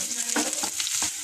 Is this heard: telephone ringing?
no